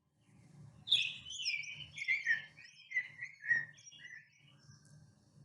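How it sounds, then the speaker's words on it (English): A grosbeak sings a clear, whistled, warbling phrase of several rising and falling notes, fairly close and alone, over a faint low background hum. "You can also listen for the grosbeak song."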